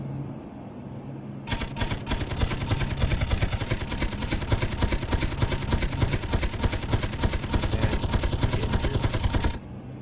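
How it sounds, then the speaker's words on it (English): A gunship's machine gun fires in the video game Space Engineers, a loud, continuous stream of rapid rounds that starts suddenly and rattles on for about eight seconds before cutting off. "Oh, now we have machine gun rounds."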